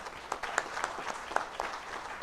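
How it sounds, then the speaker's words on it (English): Audience applause for a team at a conference talk, a fairly quiet, steady patter of many hands with scattered sharper claps, brief and without speech. "I wanted to give an applause with you to the team"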